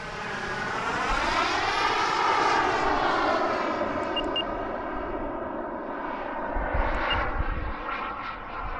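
An AeroFoam L-39 model jet drones overhead, its engine pitch rising and falling as it loops and sweeps past, steady and fairly loud throughout.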